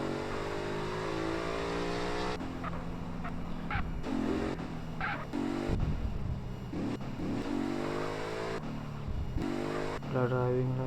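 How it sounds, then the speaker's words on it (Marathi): A car drives in The Grand mobile RP video game, its engine droning and shifting in pitch with brief honk-like tones, while a voice talks over it almost continuously. "आपल्याला जाऊन गाडी तिथं पार्क करायची आहे"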